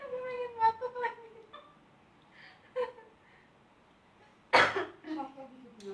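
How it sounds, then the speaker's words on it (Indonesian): A few short coughs and throat-clearing sounds, close and fairly quiet, with a sharper, louder burst near the end and soft voices in between. "Aku ingin batuk lagi."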